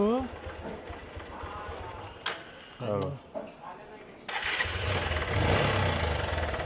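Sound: motorcycle engine making a noise

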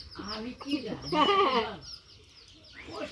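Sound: hen clucking with chicks

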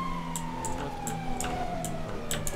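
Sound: police car siren in a video game

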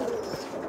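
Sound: pigeons cooing in a loft

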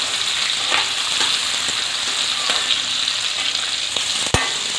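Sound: vegetables frying in a kadai for kadai paneer

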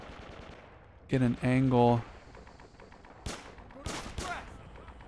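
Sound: gunfire in a WW2 FPS video game

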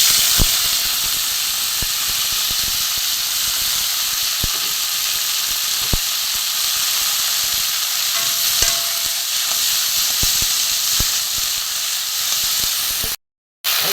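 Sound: flowers frying in oil in a pan

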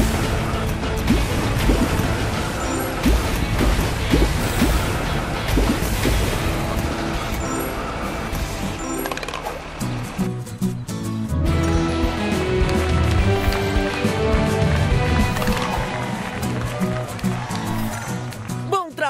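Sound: water spraying from fire truck hose, Paw Patrol video game

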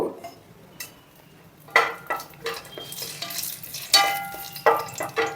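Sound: cinnamon, bay leaves, mace and cloves frying in hot oil

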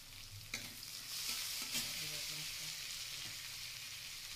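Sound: cabbage frying with turmeric powder in a pan

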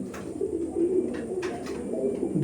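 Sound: imported Giribaj pigeons cooing

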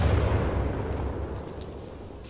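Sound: grenade explosion in video game Titanfall 2

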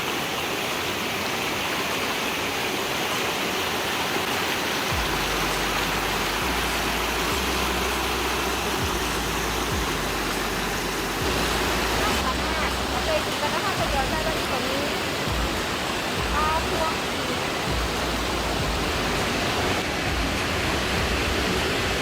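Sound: flowing water of a stream and waterfall

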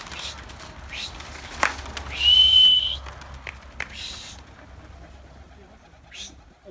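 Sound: pigeons cooing

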